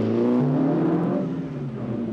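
An Opel Manta engine revving, a loud, close drone whose pitch rises and falls as it accelerates, heard alone without talk.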